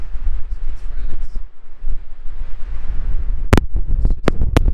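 Cold night wind at Great Sand Dunes National Park buffets the microphone with steady low rumbling gusts, ending in a few sharp knocks.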